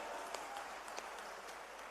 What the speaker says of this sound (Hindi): तालियों की गड़गड़ाहट से हम लोग स्वागत करें